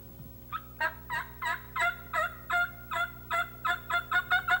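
A rapid series of about a dozen short, evenly spaced yelping calls, clear and close, like a hen turkey call used in turkey hunting, with no talking.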